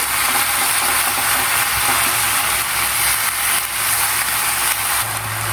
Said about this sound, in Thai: พอเราผัดหมูไปได้แป๊บนึงนะคะ